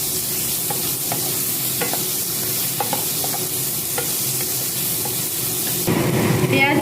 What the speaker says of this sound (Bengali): এরপর দিয়ে দেবো পেঁয়াজ কুচি, দিয়ে ভালো করে ভেজে নেব